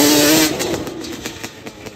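A quad ATV engine revs loudly on a short test ride, a sustained high roar that eases off into a rough, pulsing buzz, close and dominant.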